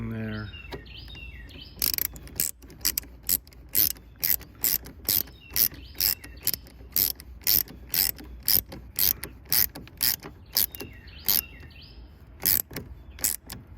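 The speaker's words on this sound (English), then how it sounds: "And get your ratchet" Socket ratchet clicking rapidly as a battery terminal is tightened on a Honda Acty kei truck fitted with a lawn tractor battery; a long, steady run of loud, close pawl clicks in quick bursts, with no talking.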